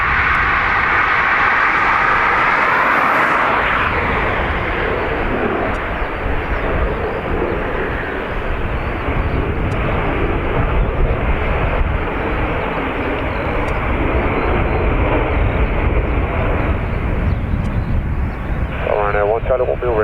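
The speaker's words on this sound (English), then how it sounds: "I think I can hear an Emirates on pushback" Emirates airliner being pushed back at Dublin Airport, a steady broadband jet engine roar that holds loud throughout, with voices talking over it.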